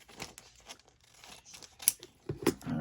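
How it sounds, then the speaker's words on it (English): Scissors snip through paper during a signature-adding craft project, giving a few quiet, separate cuts with light paper crinkling, close by and fairly soft. "So let's just cut right there."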